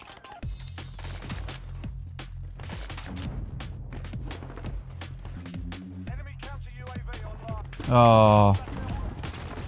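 Rapid gunfire from two players shooting in a video game, dense bursts of shots running throughout alongside game music, with a louder burst near the end and a brief spoken exclamation.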